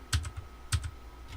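Keystrokes on a computer keyboard, two short bursts of a few clicks each with a pause between, close and fairly loud, no talk.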